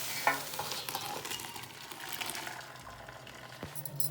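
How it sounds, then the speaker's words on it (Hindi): Boiled instant noodles and their water are tipped into a strainer in a home kitchen, a continuous rushing, splashing pour with a clink of the pot near the start and a thud near the end. "इसे छन्नी में डाल लेते हैं।"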